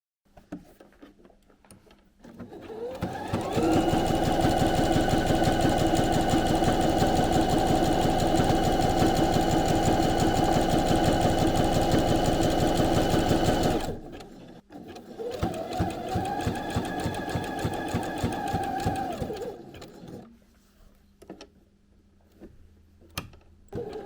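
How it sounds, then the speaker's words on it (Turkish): A sewing machine runs zigzag stitching along the four edges of a fabric pencil case, a steady loud mechanical whir for about ten seconds, then a shorter second run after a pause. "zikzak ayarı ile dört kenarına süfle çekelim"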